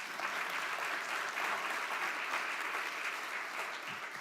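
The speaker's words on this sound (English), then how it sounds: "yes, that's worthy of a clap" An audience at a United Way annual meeting breaks into steady, dense applause, many hands clapping evenly throughout, sounding somewhat distant with no talk over it.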